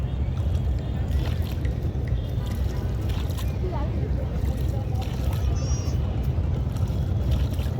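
A rowing boat glides on water at Mirpur Beribadh in Dhaka, a soft, low, continuous wash and lapping heard close by while people talk throughout.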